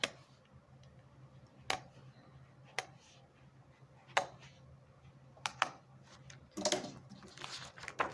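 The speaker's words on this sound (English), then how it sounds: "And you're going to cut through all of these." Scissors snip through the binding strings of a picture book in a quiet room, giving sharp isolated clicks spaced a second or two apart, then a brief cluster of rustling cuts and paper movement near the end.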